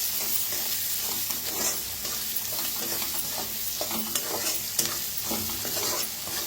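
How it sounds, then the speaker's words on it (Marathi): Chili powder and coriander powder roast in a hot pan while being stirred, a steady close sizzle with scraping spoon strokes throughout, no talking. "आता याला छान भाजून घेऊया।"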